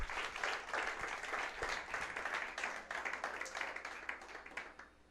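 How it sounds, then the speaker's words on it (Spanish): A church congregation applauds during a sermon, dense hand clapping that starts full and gradually thins and fades toward the end. "Denle un aplauso al Señor,"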